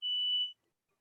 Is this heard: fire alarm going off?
yes